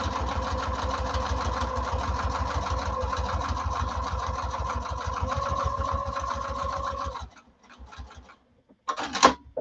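Sewing machine stitching down the other side of a fabric strap, a steady, close, rapid mechanical chatter that runs for about seven seconds, stops abruptly, then gives a few short bursts.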